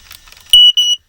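A smoke detector in a woods cabin is tested and lets out two short, shrill, piercing beeps close by, after some faint handling noise.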